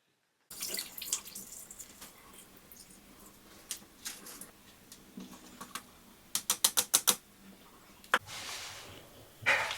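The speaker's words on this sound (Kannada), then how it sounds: "ಈ ಥರ ಫಿಲ್ಟ್ರೆಲ್ಲ ಹಾಕ್ಕೊಂಡು ಇದನ್ನು ಚೆನ್ನಾಗಿ ಹಿಂಡ್ತಾ ಇದ್ದಾರೆ ನೀರೆಲ್ಲ" Water dripping and splashing as soaked semolina is wrung out through a cloth filter in a kitchen, with a run of sharp close trickles and splatters midway amid quieter handling noise.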